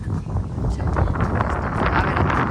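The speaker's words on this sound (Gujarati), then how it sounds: "પવન એટલો બધો છે ને કે તમે સાવ આવજો. ઉનાળાનો પવન એટલે હાવ" Strong summer wind buffets a phone microphone at a hilltop temple, a loud continuous rumbling roar with gusty swells throughout.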